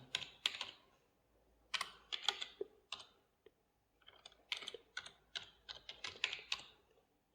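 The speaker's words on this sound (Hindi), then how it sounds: "तो मैं थोड़ा सा फिर से टाइप कर रहा हूँ।" Typing on a computer keyboard while filling in an AISSEE 2023 Sainik School application form online, with bursts of quick, close key clicks separated by short pauses.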